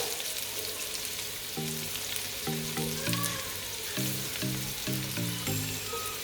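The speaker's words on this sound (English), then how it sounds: "Saute the onions for 2 minutes." Chopped onions with salt and garlic sauté in a hot pan, giving a steady, close sizzle for several seconds with a soft melodic tone in the background.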